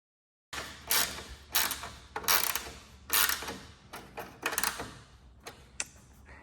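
A ratchet clicks in rapid bursts, tightening bolts under the hood of a Chevy Silverado; about eight close, crisp runs of ratcheting separated by short pauses, with no talking.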